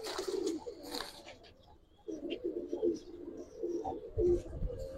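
Pigeons cooing at a Dhaka pigeon seller's, Giribaz breed, soft repeated low coos close by amid background chatter and faint chirps, with people talking throughout.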